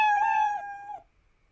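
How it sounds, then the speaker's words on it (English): One stretched cat meow from the Scratch program's built-in sound effect rings out close and clean, fading after about a second into quiet. "once I click on the letter R, I'm going to hear a meow."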